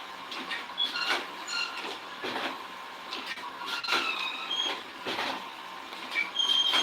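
A hydraulic machine presses disposable plates, thumping in repeated mechanical cycles about once a second with clanks and faint squeaks, close and steady with no talking.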